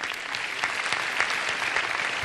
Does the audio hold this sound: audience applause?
yes